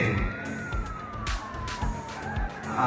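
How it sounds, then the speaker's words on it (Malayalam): At an outdoor political rally in Wayanad, an ambulance siren wails with a slow rising and falling tone that cuts through the background crowd noise at moderate volume. "ആംബുലൻസ് ആണ് വിട്ടുകൊടുക്കണം പെട്ടെന്ന്"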